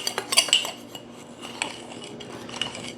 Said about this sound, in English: now I'm going to mix them all into one jar